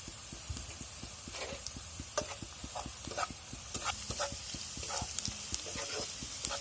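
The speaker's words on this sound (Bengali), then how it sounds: "পেঁয়াজটাকে আমি আরেকটু ভাজা ভাজা করে নেব।" Onions frying in a pan with salt and a little turmeric for a Bengali egg noodle dish, a steady low sizzle under repeated scraping and stirring strokes of a spatula.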